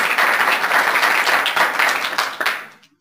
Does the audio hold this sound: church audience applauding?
yes